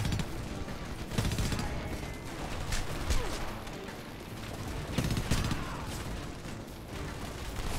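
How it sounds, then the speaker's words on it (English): Gunfire in the video game Homefront, a loud, dense run of shots and bursts with irregular sharp cracks over a busy mechanical battle din. "You're getting shot at."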